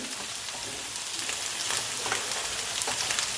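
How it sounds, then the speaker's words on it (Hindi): Chicken Manchurian pieces lightly frying in oil in a pan give a steady, dense crackling sizzle, close and fairly loud throughout, with no talk. "हल्का सा फ्राई करेंगे।"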